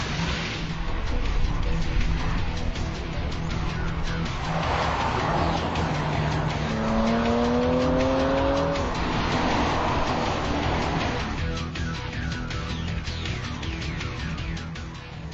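An all-new BMW 335i sports car drives past, its engine and road noise building into a sustained roar, with a rising gear-change tone in the middle before it fades slightly toward the end.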